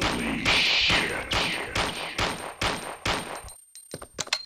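Pistol gunfire in Resident Evil 3, a steady series of loud, evenly spaced shots, about one every half second, ending in a few fainter scattered thuds.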